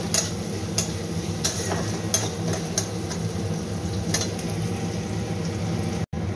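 Onions with a little salt frying in a pan: continuous loud sizzle with a steady crackling hiss, punctuated by periodic sharp clicks of stirring, no voices.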